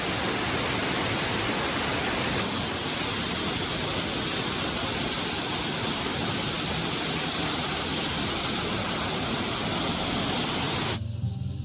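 A waterfall in Bali roars with a steady, close, dense rush of falling water that runs unbroken for most of the stretch before cutting off abruptly near the end.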